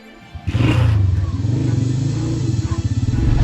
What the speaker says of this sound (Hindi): हारून अपना तैयार करदा लहंगा लेकर मोटरसाइकिल पर बैठ गया और मोटरसाइकिल वीरानी की तरफ रवाना हो गई।